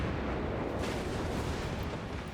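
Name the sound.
cruiser gunfire in a naval video game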